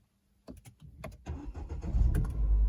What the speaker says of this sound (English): This time engine starts as it should.